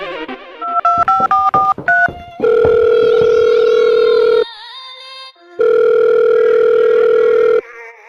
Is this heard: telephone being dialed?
yes